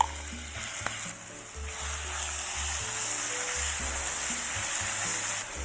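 Blended spice paste sizzles and fries in a pot of whole spices, bay leaves, cinnamon, cloves, star anise and cardamom for beef biryani. The hiss is steady and close, with intermittent stirring scrapes and clunks and no speech.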